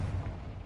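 Confringo blasting spell from Hogwarts Legacy erupting in a heavy, rumbling low boom that fills a short, sustained burst of explosive noise.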